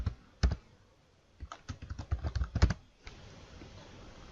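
Keys on a computer keyboard are tapped to type an answer, starting with a single early stroke, then a quick irregular burst of close, crisp clicks, followed by a faint hiss with no speech.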